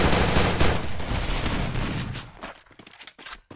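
A loud burst of rapid gunfire that fades after a couple of seconds into scattered quieter shots and clatter.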